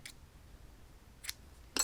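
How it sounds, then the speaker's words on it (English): Scissors snip through crochet yarn in three quick, crisp cuts, close and alone with no talking. "and then cut your yarn"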